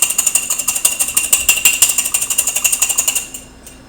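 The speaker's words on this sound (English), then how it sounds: "And then we're going to whisk it up." A whisk beats salad dressing seasoned with salt and pepper in a bowl, a quick steady series of bright metallic ticks and clatters, close and fairly loud, slowing and stopping near the end.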